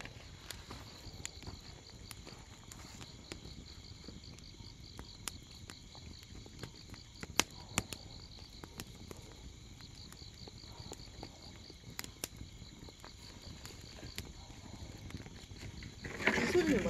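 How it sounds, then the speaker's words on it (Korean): Steady high-pitched insect chirping fills the autumn night air, a continuous shrill buzz with faint scattered clicks and a brief louder rustle near the end. "곤충 소리 있잖아 이거"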